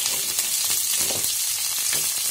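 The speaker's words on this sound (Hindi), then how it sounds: "प्याज भी डाल दिया।" Onions frying in a pan, a loud, steady hiss and crackle of hot oil that fills the whole moment, close up, with faint stirring underneath and no talk.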